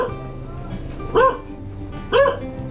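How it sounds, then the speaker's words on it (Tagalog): A dog at a house gives two sharp barks about a second apart, close and loud, with faint voices in the background. "Oh, may aso. Nangagat po yan."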